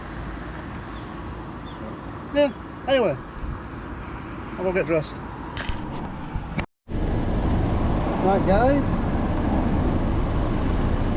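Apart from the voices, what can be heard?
road traffic noise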